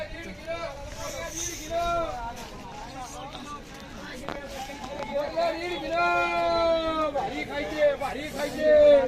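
Busy crowd chatter and babble at the Sunday market in Daund, many voices overlapping close by in a steady murmur, with someone speaking nearby.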